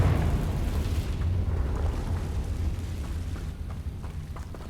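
An explosion from the Confringo fire spell in Hogwarts Legacy hits with a deep, heavy boom and then rumbles and crackles as it slowly fades.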